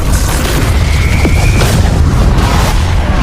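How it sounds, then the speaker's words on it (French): Floating island blowing apart in the Fortnite video game: a loud, continuous explosive roar with a deep booming low end and crackling debris, a brief rising whoosh cutting through midway, no voices. "L'île flottante explose, ne laissant que le cube en lévitation au-dessus du vortex"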